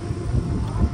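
Strong wind at sea during a kayak trial buffets the microphone, a loud continuous low rumble and roar over a brief second.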